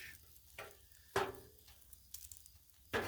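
Shrimp fried rice being stirred on a Blackstone griddle, a soft steady sizzle broken by several sharp scraping clicks of a spatula against the flat metal surface, close and fairly quiet.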